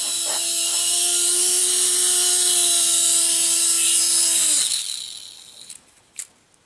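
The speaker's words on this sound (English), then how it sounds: "The Lh-1211 mini helicopter" An Lh-1211 mini toy helicopter flying indoors whines with a high, steady buzzing rotor, then winds down and stops, followed by a couple of faint clicks.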